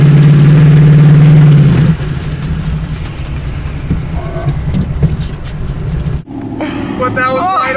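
A turbocharged 5.2 street truck engine on low boost roars at wide open throttle, loud and close at first, then drops to a rumbling drive with a voice talking over it.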